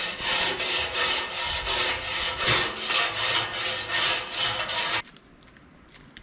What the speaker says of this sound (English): The next step here is you want to just try to scrape off any remaining.